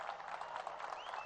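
An audience applauds a political speech with a faint, distant patter of many hands clapping, steady and even, brief and continuous.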